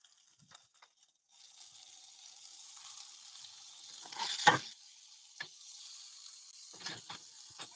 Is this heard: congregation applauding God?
no